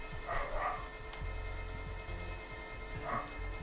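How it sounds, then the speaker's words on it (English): A dog in The Legend of Dragoon video game barks at a cat, giving a few soft, distant woofs over steady background game music. "The dog is barking at my mother's cat."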